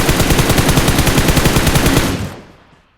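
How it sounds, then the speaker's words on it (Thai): Rapid automatic gunfire from a PUBG match bursts loud and continuous for about two seconds, a dense rattling stream of shots that then cuts off and fades into near silence. "เสียงตัวยิงครับ"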